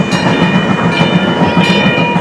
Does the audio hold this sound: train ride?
yes